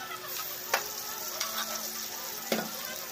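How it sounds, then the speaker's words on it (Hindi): Boiled chickpeas go into a pan of sizzling masala that has already released its oil. A soft, continuous frying hiss is broken by a few sharp clinks and stirring scrapes, quiet and close, with no talk. "अब हम इसमें चने डालेंगे,"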